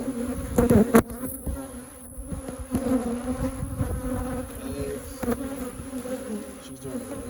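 Honey bees buzzing steadily and close by at an open hive while a honey super is added, a dense droning hum with a few louder passes near the start.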